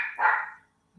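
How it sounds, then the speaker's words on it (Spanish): A dog barks over an open microphone during an online class: a single bark followed by a longer, strained yelp, fairly close and clear, then silence and a brief onset of another sound at the end. "Si alguien puede cerrar el micrófono, el que está ladrando el perro."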